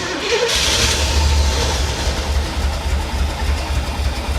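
A Chevy Corvette engine pulled from a Florida swamp runs rough close by, a loud, uneven low rumble that holds steady without clear revving.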